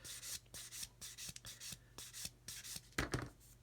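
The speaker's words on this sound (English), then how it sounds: "the sponge is distorting to the shape of the bomb, so it's actually sanding a radius" A sanding sponge rubbed over a seam on a plastic model bomb, quiet close back-and-forth scrubbing strokes in a steady rhythm, alone without talk.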